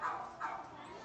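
A small toy poodle puppy lets out two quiet, brief barks or yips amid indoor background noise while a dog sale is being haggled over.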